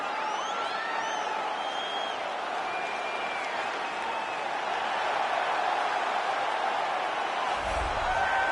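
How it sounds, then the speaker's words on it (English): A steady, dense crowd roar fills a UFC 4 video game arena, continuous and loud throughout with a broad wash of cheering and applause, no individual voices standing out. "you hear the pop from the crowd, DC, as Nate Diaz gets set to make this"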